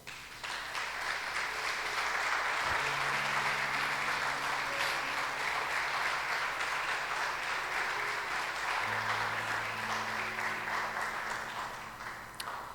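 Church congregation applauding, a full, sustained wave of clapping from many people that holds steady throughout and tapers slightly at the close, with faint tonal notes beneath.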